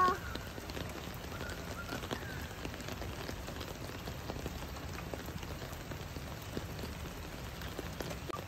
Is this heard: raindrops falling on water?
yes